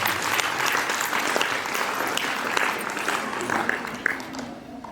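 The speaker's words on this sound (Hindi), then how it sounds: "हम हमारे फादर के लिए एक बार जोरदार ताली बजा रहे हैं।" A hostel audience claps loudly and continuously at a priest's birthday celebration in Jharkhand, dense close applause filling the whole stretch.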